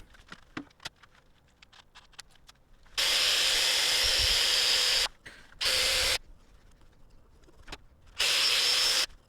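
A loud whirring power drill turns an acacia hardwood workpiece on a lathe in three bursts, the longest about two seconds, between stretches of quiet clicking and tapping.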